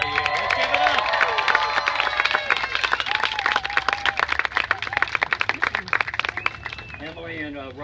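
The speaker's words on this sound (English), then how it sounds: "I think that deserves the loudest cheer I can elicit out of you. Let's give it up!" A large crowd at a high school groundbreaking ceremony claps and cheers, a dense burst of applause with shouts and whoops that thins into scattered claps, and a voice speaks at the end.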